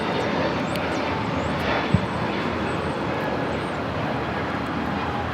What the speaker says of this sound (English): This is JetBlue Flight 100 taking off to Fort Lauderdale on the A321neo.